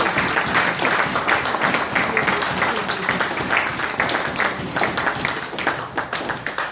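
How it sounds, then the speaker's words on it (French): A church congregation claps and applauds together in dense, continuous applause that stays loud and steady from start to finish, with no speech on top. "Acclamons Jésus"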